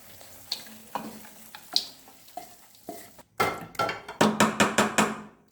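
Cooked mutton keema scraped from a pan into a bowl: scattered spoon scrapes and knocks at first, then a quick run of louder, rhythmic metallic scraping clanks close by, with no voices.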